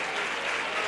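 A large crowd at a Good Friday procession in Antequera, Spain, claps loudly and continuously, a dense wash of applause with no gaps.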